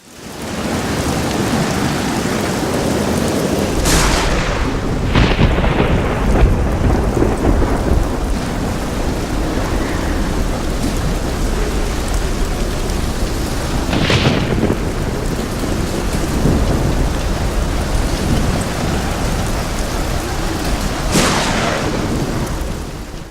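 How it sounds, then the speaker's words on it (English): A night thunderstorm pours steady heavy rain while several sharp thunder cracks and rolling rumbles break through at intervals, loud and close, with no talking. "So last night we had a storm, thunder and lightning."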